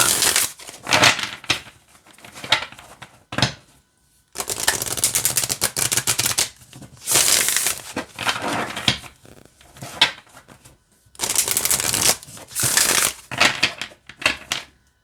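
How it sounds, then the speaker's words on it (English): Bursts of rapid papery riffling and clicking come in repeated rounds, close and crisp, separated by short quiet pauses, as an oracle card deck is shuffled. "let's see how it shuffles"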